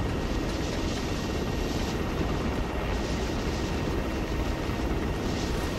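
A helicopter in a military shooter game roars with a steady, dense rotor and engine drone that fills the whole stretch at constant loudness, with no voices.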